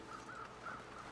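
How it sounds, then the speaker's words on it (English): Several short, raspy bird calls in the video game The Long Dark repeat in a quick series, faint and slightly distant over a soft background hiss. "Birds sound nearby"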